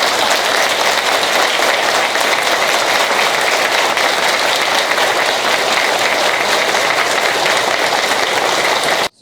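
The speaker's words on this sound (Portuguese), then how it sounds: "vamos saudá-los com muitas palmas" Loud, dense audience applause for newly sworn-in officials at an inauguration ceremony, a sustained wall of many hands clapping that cuts off abruptly at the end.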